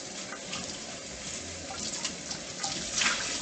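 Tap water runs steadily at close range to rinse a pot before water is boiled for a dessert, a continuous hiss with small splashing changes near the end.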